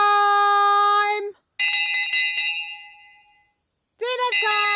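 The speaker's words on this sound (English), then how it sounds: "The bells!" Cartoon dinner-time bells ring in three bright, clanging bursts, each leaving a shimmering metallic tone that fades before the next strike, loud and close with no talk.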